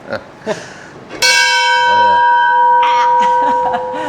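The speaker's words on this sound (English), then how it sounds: "gift from Edward Schmidt in Elgin, Illinois, donated this big bell for us. I can ring it if you don't stand too close so you don't get that loud noise" A big donated bell at a historic train depot museum strikes once, loud and close, and rings on with a long sustained tone, with brief speech before the strike and voices under the decay.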